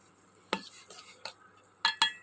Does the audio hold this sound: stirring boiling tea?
yes